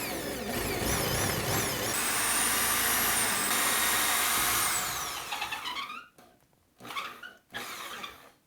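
A power drill, impact mode off, bores a hole into drywall with a loud sustained whine that rises in pitch, then stops and gives two shorter bursts near the end.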